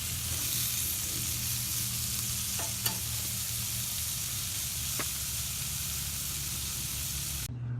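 Steak searing in a hot pan with butter and garlic, a loud, steady, close sizzle that runs without a break and cuts off at the end.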